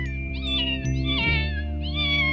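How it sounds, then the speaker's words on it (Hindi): A cartoon cat in a Hindi-dubbed Doraemon episode meows in a few drawn-out, wavering cries over a steady musical background, loud and close. "ये बिल्ली कितनी प्यारी है।"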